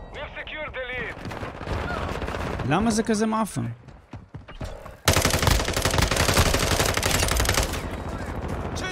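Heavy automatic gunfire in an online match of Call of Duty on the Shoot House map on PS5 fills the space, loud and continuous after a pause, with frustrated talking over the start.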